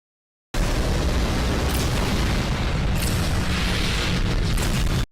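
Plasma gun blast from Titan Cameraman in a skibidi toilet animation: a sustained, loud, dense roaring explosion that cuts in abruptly, rumbles steadily for several seconds, and stops sharply, with no talk.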